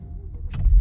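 A 2017 Porsche Macan GTS engine starts up close. A quiet mechanical whir and a short high click lead into a deep, loud low-frequency surge as the engine fires at the very end.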